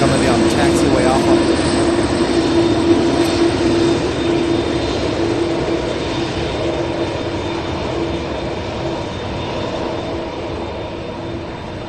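An MD-11 jet taxis along a taxiway at UPS Worldport at night, its engines a loud, steady whine and roar that slowly fades over the stretch.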